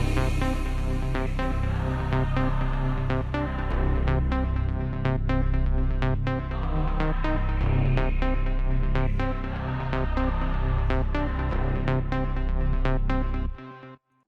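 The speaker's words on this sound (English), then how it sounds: "Then there's this reverb with quite some decay" A house remix passage with long-decay reverb set about two-thirds wet, dense sustained synth chords and steady bass filling the mix for most of the stretch before cutting off abruptly with a brief reverb tail.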